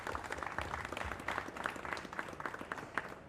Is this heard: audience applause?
yes